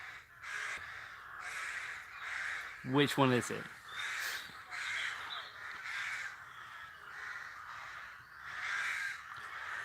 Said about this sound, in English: Okay, so you can hear the birds.